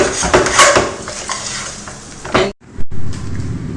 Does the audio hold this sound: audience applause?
no